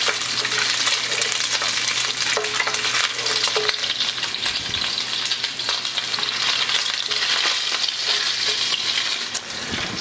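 Sausage browns in a hot pan, rendering its fat with a continuous loud crackling sizzle and bursts of spitting grease, with occasional stirring scrapes and no talking.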